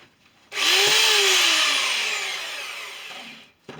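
A chisel is sharpened against a coarse belt on a running belt sander, a loud steady high-pitched grinding whine that starts abruptly, holds for about three seconds while slowly fading, then stops, close up with no speech.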